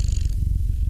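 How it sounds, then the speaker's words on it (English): A ragdoll cat purring loudly and close up, a steady rumbling purr with a continuous rhythmic pulse through the whole moment and no talk over it. "Look how loud he's purring right now."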